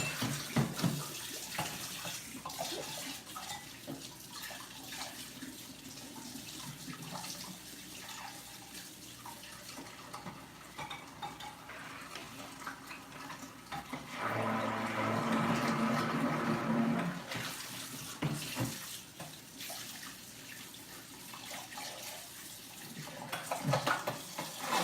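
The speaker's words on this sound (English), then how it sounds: "Just going to rinse off the stick blender." Tap water runs steadily while a stick blender is rinsed off after making pumpkin spice cold process soap, a continuous hiss with a louder, fuller stretch midway and faint handling clatter.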